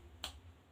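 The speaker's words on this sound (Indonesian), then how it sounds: "Kalau kau senang hati, petik jari." One crisp, sharp finger snap in time with a children's action song about clapping and snapping when happy, quiet and isolated against a faint background.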